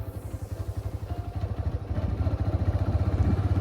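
Beginner's motorcycle pulling away after the clutch is eased out, its engine thumping in a steady pulse that grows louder and quicker as speed builds, close and alone with no talk.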